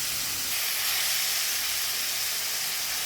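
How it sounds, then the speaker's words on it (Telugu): Broad bean pieces heat in hot oil for a fry, giving a steady, loud, even hiss with no pauses and no voices. "వీటిని కూడా ఆయిల్లో బాగా హీట్ ఎక్కనిద్దాం ఫ్రెండ్స్."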